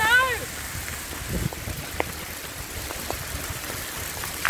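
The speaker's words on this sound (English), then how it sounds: "There's a little bit of hail." Light hail falling on a bike path along the EV6 route between Vienna and Passau, a steady faint patter of small pellets with a few sharper ticks, with a voice briefly heard.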